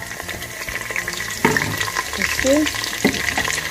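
Onion hits hot vegetable oil for a turkey stew with scotch bonnet, a steady close sizzle and crackle with stirring clatter, while a voice speaks briefly over it.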